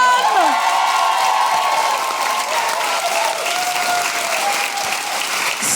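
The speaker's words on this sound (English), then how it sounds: "Ladies and gentlemen, give it up for the wonderful Susan Calman" Audience at a live podcast show applauding a comedian, a steady full burst of clapping from a crowd, close and sustained throughout.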